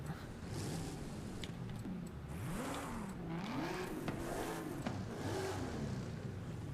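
Buick V8 engine fitted to a car in a racing video game, revving up and down in a wavering drone under constant road and tire noise, fairly faint.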